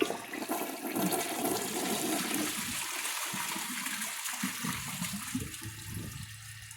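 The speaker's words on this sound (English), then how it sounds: "I'll give it a flush and let's see how it does." A 2008 Mansfield Alto toilet flushes with a loud, close rush of water that swirls and gurgles, then tapers into draining trickles, with no one talking.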